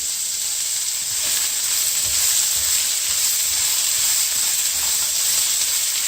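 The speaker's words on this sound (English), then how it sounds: "So we're just pan frying it right now to soften it." Steady, bright sizzling of vegetables frying in a hot pan for a stuffing, a continuous hiss with faint crackles and no voices.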